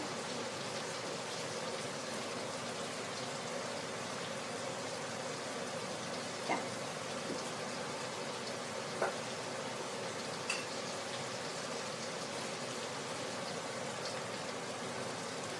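Thai fish cakes (tod man) deep-frying in hot oil over medium heat, a steady close bubbling sizzle that runs throughout, with a few faint clicks and taps.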